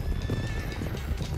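A horse in Red Dead Redemption 2 whinnies loudly and up close over the quick clip-clop of galloping hooves.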